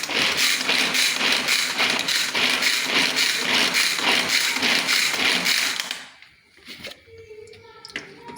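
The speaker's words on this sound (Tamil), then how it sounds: "இப்போ வெங்காயத்தை கட் பண்ணிக்கலாம்." Onions chopped for vada batter, a dense, steady run of rapid knife chops on a board for about six seconds, loud and close, then breaking off into quieter kitchen clatter.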